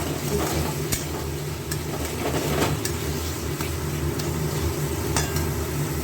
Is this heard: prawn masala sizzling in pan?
yes